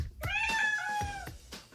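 A house cat meows repeatedly to be let outdoors, several drawn-out, tonal cries close to the microphone with soft thumps between them.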